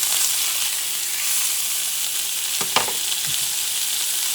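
A wagyu steak that has just been turned sizzles steadily in its own rendered fat, giving a close, constant hiss with a couple of brief utensil scrapes partway through.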